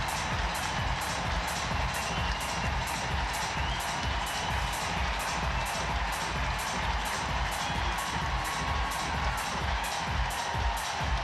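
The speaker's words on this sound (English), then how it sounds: "Hear the ovation for Team Ukraine." A standing ovation for Team Ukraine at the Invictus Games Vancouver Whistler: a packed arena crowd roars with steady rhythmic clapping, whoops and cheers, loud and continuous with no break.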